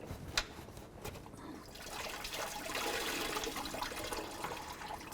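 Coolant draining from a disconnected radiator hose on a Ford F-150, a faint, steady trickle and splash of liquid that swells slightly midway, with no voices.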